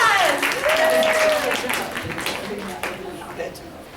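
Audience at a speech contest breaks into applause, a dense wash of clapping that slowly fades, with a voice speaking over it at the start.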